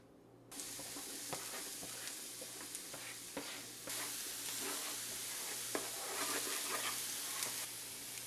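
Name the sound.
onions and jalapenos frying in avocado oil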